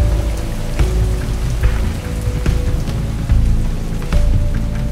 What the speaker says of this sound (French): Même sous la pluie